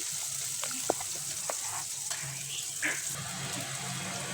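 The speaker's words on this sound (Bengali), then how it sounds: "পেঁয়াজ কিছুগুলো হালকা একটু তেলে ভেজে নিব" Chopped onions fry in hot oil in a pan for a mixed vegetable bhaji, giving a steady close sizzle with a few light clicks and stirring scrapes.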